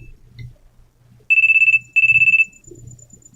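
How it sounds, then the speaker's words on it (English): A phone in the horror game Shin Hayarigami 2 rings with two bursts of shrill, rapid electronic beeping, each lasting about half a second, loud against a quiet low background. "At that moment, a shrill beeping sound rang out."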